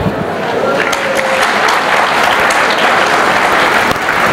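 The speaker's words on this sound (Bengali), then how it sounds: "তোমরা একটু হাতে তালি দিতে পারবে?" A crowd of students at an award ceremony for high-achieving school exam results claps loudly and continuously, a dense, even wash of applause close by.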